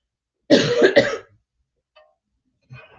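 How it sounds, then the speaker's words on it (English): A single loud cough, close and sharp, followed by near silence and faint small sounds. "Now, I'm going to cough."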